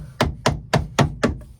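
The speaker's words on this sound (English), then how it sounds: "when you're whacking it with a hammer handle." Five sharp wooden whacks from a hammer handle striking a wall or roof lining board, evenly spaced about a quarter second apart, close and fairly loud with short decays, and no talking.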